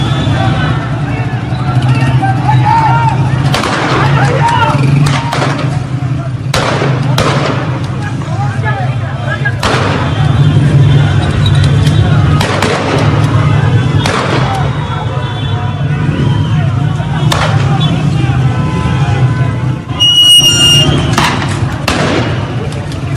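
Repeated sharp gunshots crack out at irregular intervals over a dense, loud crowd babble during street protests in Iran, some shots near and others more distant.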